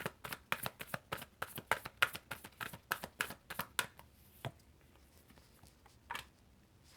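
Tarot cards riffled and shuffled in a quick, crisp run of soft slaps and flutters, then a few slower, separate card snaps as cards are drawn, close and quiet with no talking.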